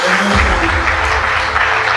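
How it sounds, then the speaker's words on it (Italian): A crowd applauds at a career award presentation, the Leone d'Oro for a drummer, dense sustained clapping that fills the whole moment loudly, with a voice briefly audible at the start. "Un grande applauso, se lo merita."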